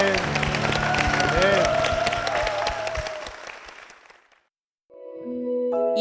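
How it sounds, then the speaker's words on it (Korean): Church congregation applause, a dense burst of clapping that fades out after about four seconds, followed by a brief silence and then music. "주님께 영광의 박수 올려드리겠습니다."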